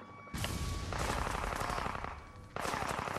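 Bursts of automatic weapon fire in the Indiana Jones and the Staff of Kings video game, a loud sustained volley that breaks off briefly and then resumes, with no talk.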